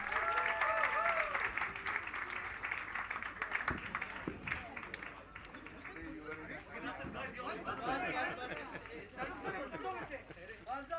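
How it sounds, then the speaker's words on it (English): A large audience applauds and cheers to welcome Shah Rukh Khan at a coffee table book launch, with dense clapping mixed with crowd chatter and voices throughout. "With a huge round of applause, please welcome King Khan, Mr. Shah Rukh Khan."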